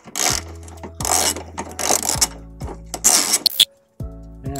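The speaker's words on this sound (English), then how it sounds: "we can go ahead and take down 2 17 millimeter bolts holding the exhaust bracket in" Ratchet wrench loosening 17 mm exhaust bracket bolts under a 2006 Subaru Forester, heard as several loud bursts of rapid clicking with short pauses between, close up and without talk.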